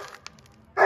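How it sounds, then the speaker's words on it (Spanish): A dog barks at a goat in a rural yard, a few short yips up front followed by one loud, close, sustained bark burst at the end. "Ladrándole a Pepa"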